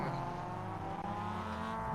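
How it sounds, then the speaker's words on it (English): Race car engine revving in a sim racing replay, a steady, droning motor note held for two seconds at moderate volume with no talking. "he revs his engine there and he gets no drive before he gets the bump"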